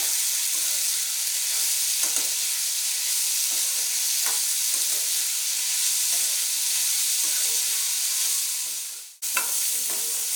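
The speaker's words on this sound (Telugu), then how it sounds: "ఇక్కడ వేగాయండి బాగా" Onions fry in a pan for broken-rice upma, a dense, steady hiss of sizzling with occasional stirring ticks. It dips to a sudden brief quiet near the end, then resumes.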